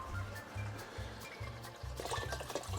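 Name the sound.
water being poured into a pot for fish soup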